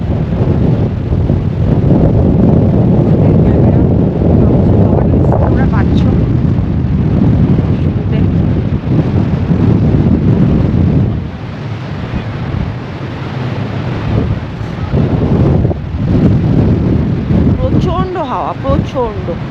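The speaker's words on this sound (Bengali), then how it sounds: "প্রচণ্ড হাওয়া, তার সাথে খুব ক্লাউডি হয়ে গেছে।" Strong, gusty wind blows on a bridge leading to a ruined castle above two islands under cloudy skies, buffeting the microphone with a loud, continuous rumble that surges and dips throughout.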